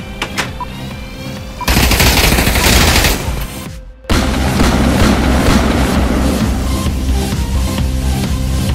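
Gunfire in the Pavlov VR shooter game: a loud dense burst of rapid shots, a brief near-silent gap, then sustained heavy firing continuing to the end, with no talking.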